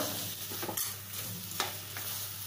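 Cardamom powder being stirred into pineapple sheera in a pan, with soft scraping strokes and a faint sizzle over a steady low hum, close and fairly quiet, no talking.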